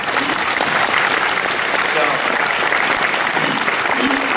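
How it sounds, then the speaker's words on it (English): Audience applause at a D23 Expo panel on Walt Disney Imagineering's 60th anniversary, a loud, dense, steady wash of clapping from a large crowd filling the hall for several seconds. "I'll applaud that."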